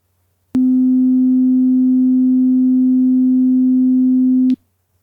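A clean, loud, steady test tone plays alone through a good reference speaker, holding for about four seconds between a sharp start and stop.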